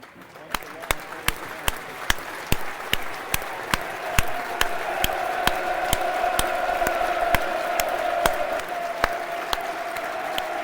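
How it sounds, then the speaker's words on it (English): Steady applause from a large football stadium crowd during a minute's applause at a Millwall v Preston North End match fills the space, with regular sharp knocks cutting through at even intervals. "We're doing a minute's applause here."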